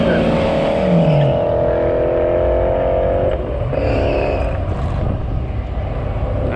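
Ford Mustang racing down a drag strip at a quarter-mile track, a loud continuous engine roar with falling and shifting pitch as the car pulls away, crowd and track noise underneath.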